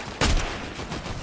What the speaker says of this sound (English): You got gunfire?